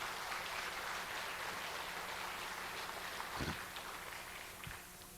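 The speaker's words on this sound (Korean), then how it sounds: "하나님께 감사의 박수를 보내야 돼." Steady, dense applause from a church congregation, fairly distant and sustained throughout, with a couple of low thumps near the end.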